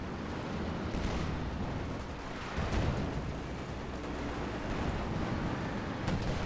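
Anti-tank gun fire from a Pak 40 in Company of Heroes 2, a dense battlefield roar with booming shots and a heavier blast near three seconds, steady and loud throughout with no voices.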